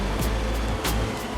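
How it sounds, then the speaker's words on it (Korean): Rough sea waves heard from inside an amphibious assault vehicle during a beach assault at sea, a steady loud rumble of water and engine with periodic broadband surges of surf washing against the hull. "거친 파도는 장갑차 안에서도 온몸으로 느껴집니다."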